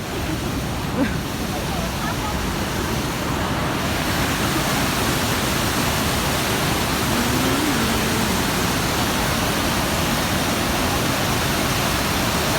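Waterfall at Trollstigen, Norway, a steady broadband roar of falling water that stays loud and unbroken throughout, with faint voices now and then beneath it.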